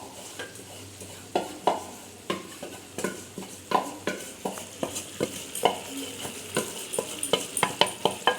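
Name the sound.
meat poured into boiling gravy, cooking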